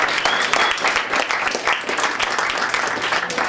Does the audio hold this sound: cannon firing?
no